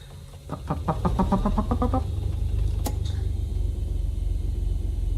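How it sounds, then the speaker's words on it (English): The left engine of an aircraft in the X-Plane flight simulator cranks over with a quick run of rhythmic pulses, then catches into a steady, loud, low rumble that continues alone. "Let's turn on them fuel pumps. We'll start with left engine."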